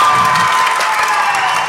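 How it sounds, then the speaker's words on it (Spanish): Audience applause and cheering from a live show crowd, a dense continuous wash of clapping with some shouts, steady and loud throughout with no pauses. "luego de esa catarata efusiva de aplausos"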